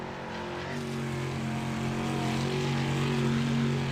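A race car engine roars steadily around a speedway on turns three and four at Fairbury, its tone holding loud and close as the driver eases slightly off the throttle.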